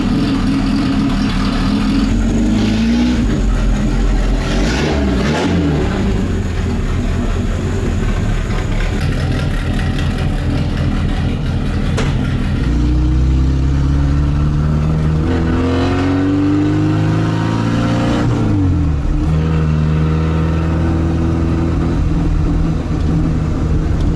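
A 1957 Moskvich 402 engine runs loud and close as it warms up, its idle rising and falling in pitch with occasional revs and shifting tone across a long continuous stretch, with no voices.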